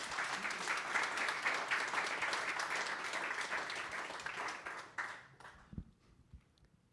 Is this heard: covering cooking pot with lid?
no